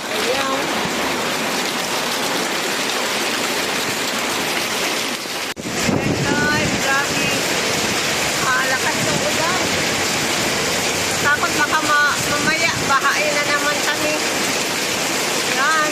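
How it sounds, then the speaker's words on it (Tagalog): Heavy rain pours steadily in a dense broadband roar, with a brief dip midway and a voice faintly heard underneath at times. "Lakas na patak ng ulan"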